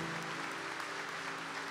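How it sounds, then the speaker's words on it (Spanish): An audience applauds young people during a Catholic gathering, a dense, steady wash of clapping with no break. "Pode aplaudir esses jovens."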